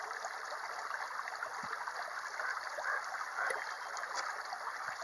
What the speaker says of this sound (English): and you got water coming out